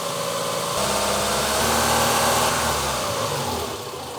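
A Honda car engine runs at a steady idle, a close, continuous mechanical hum with even vibration and a slight swell in the middle, no voices over it.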